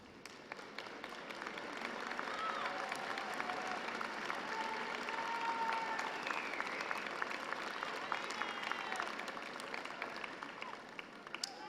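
A graduation crowd at Southern Utah University's 118th commencement breaks into broad, sustained applause, swelling after a quiet start and then holding steady, with cheers rising faintly through the clapping.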